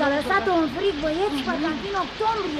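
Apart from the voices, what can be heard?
heavy rain, radio play sound effect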